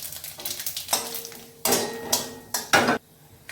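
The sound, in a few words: whole spices sizzling in hot oil for tempering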